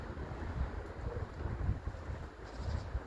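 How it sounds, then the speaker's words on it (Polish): Strong gusty wind blowing outdoors where pigeons are flown, a loud buffeting rumble against the microphone that swells and dips without pause. "w środku wiatrzysko jest straszne"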